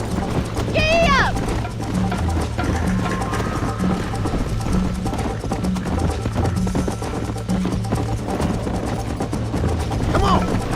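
Horse hooves galloping in the Red Dead Redemption video game, a steady busy clatter running throughout under layered game sounds and occasional voices.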